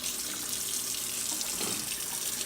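Tap water runs steadily from a faucet, rinsing freshly de-fluxed circuit boards at a sink; a continuous broadband splashing hiss with slight shifts in flow, no voices.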